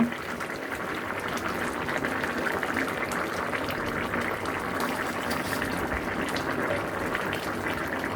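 Rohu fish curry with radish bubbles steadily in a covered pot, a continuous dense boiling and simmering hiss that stays even and close throughout with no talk.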